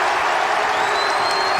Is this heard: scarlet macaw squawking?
no